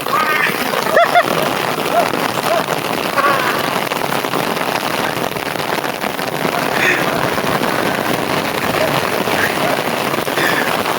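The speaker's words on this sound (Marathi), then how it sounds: "आणि किती पाऊस आहे हे बघा." Heavy rain pours steadily and close by, a dense continuous hiss of drops striking surfaces that lasts throughout, with a voice speaking faintly under the downpour.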